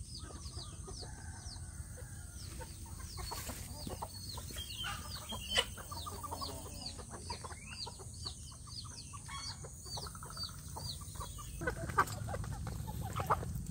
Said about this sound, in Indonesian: saya ingin memberi makan dulu untuk anak ayam kampung saya yang ada di